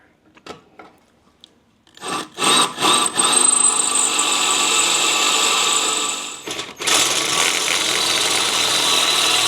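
Power drill boring a stepped-up hole on a Jeep during a Blue Ox tow bar flat-tow setup, starting with a few short bursts, then a steady sustained whine with a brief pause before resuming, close and loud.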